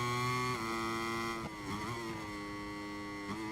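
A MotoGP 23 racing motorcycle engine at Brno holds a high, buzzing tone, then dips and climbs again as the throttle is eased and reopened, steady and close with no talking.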